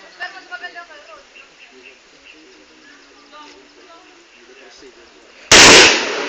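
Firecrackers go off, with one sudden, very loud close blast near the end after a stretch of quieter background chatter and chirping.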